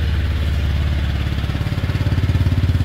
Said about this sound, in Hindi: एग्जॉस्ट साउंड भी इसका काफ़ी अच्छा है